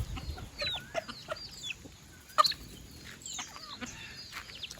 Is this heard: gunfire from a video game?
no